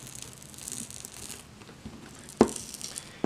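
Old used pads being peeled off Stax 207 headphones, heard as soft, close tearing and crinkling with a couple of sharper rips toward the end, no voices.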